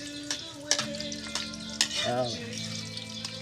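Onions sizzle as they sauté in a pan for a sea snail dish, with clattering stirring strokes and a brief spoken word over the steady frying hiss.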